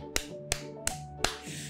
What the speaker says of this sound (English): Let's give Nicola some back of the elbow claps.